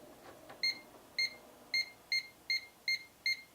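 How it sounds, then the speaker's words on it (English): A multimeter's non-contact voltage detector gives a regular series of seven short, high, clear electronic beeps at an even, fairly quick rhythm, close and distinct against a quiet background. "And then it's got a non-contact voltage detector, which should..."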